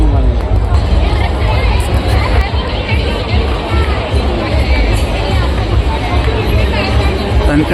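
Dense crowd hubbub at a Hindu temple fair, the Bomblya Vithoba yatra in Sajgaon, with continuous overlapping chatter and movement filling the space loudly and evenly throughout.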